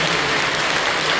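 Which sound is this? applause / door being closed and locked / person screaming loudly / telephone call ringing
applause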